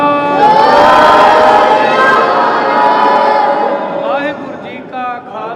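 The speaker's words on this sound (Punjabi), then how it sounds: "ਇੱਕ ਜਕਾਰਾ ਸਾਰੇ ਨੌਜਵਾਨ ਧੀਆਂ ਤੇ ਬੱਚਿਆਂ ਵਾਸਤੇ ਦਾਸ ਗਜਾਏਗਾ, ਜਵਾਬ ਦੇਣਾ" A Sikh congregation roars back in unison to a jaikara war cry during an Amrit Sanchar gathering, a loud, sustained massed shout of many voices, with young daughters and children among them, swelling and then fading into scattered trailing voices.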